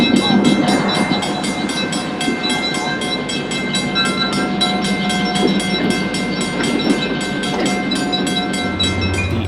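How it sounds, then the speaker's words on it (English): Train 711 pulls out of Port Chicago, heading for Oakland on the SP line, with a steady rolling rumble and rhythmic clacking of wheels and a faint horn in the background. "Train 711 departs Port Chicago and will continue to Oakland on the SP."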